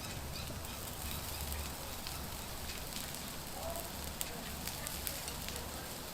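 Garlic parmesan mushrooms sizzle steadily in oil on a Blackstone griddle, a dense continuous hiss with light scraping from stirring and a couple of small clicks, no voices.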